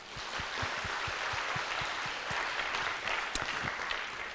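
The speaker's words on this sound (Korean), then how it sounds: "박수하겠습니다" Quiet scattered clapping from a church congregation after a recited hymn verse, soft and somewhat distant with a few louder individual claps standing out over a faint room hum.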